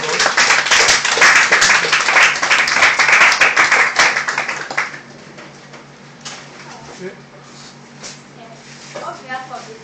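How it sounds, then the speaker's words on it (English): Applause at a 2011 girls' career camp talk: a loud burst of clapping from the class for about five seconds, then fading to a quieter room with scattered voices and faint bird cooing. "Round of applause."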